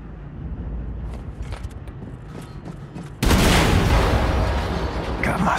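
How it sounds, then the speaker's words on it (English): Explosive tank blowing up in Wolfenstein 2 The New Colossus, a sudden loud burst followed by a sustained roaring, crackling blast after a stretch of quieter mechanical background. "Explosion in der Hangarbucht."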